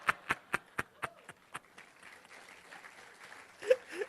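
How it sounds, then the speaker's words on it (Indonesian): A church congregation claps in a handful of sharp, evenly spaced claps that soon dissolve into a softer, scattered patter of applause, with a faint voice or murmur near the end. "Ini yang tepuk tangan korban pemutusan."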